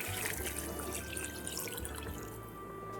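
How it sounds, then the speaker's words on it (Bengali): Water pours steadily into a cooking pot for Bengali egg curry, a continuous near splashing flow that stays loud and even for the whole few seconds. "আর আমি ঝোলের পরিমাপে জল দিয়ে দেব।"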